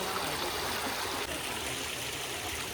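Water streaming into a pond through a small channel makes a steady broadband rushing and trickling, constant and fairly near, with no voices.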